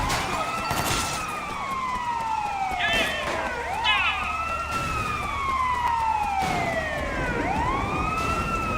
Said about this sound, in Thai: เออรถตำรวจ